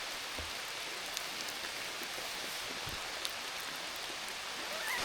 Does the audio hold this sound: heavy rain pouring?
yes